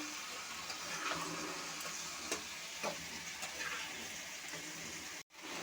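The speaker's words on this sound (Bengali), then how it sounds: "একটু জল দিয়ে দেব ভালো করে ভেজে নিতে হবে" Okra and potatoes frying in a pan with a little water added, a soft steady sizzle and hiss with occasional faint taps of a stirring spoon, ending in an abrupt cut.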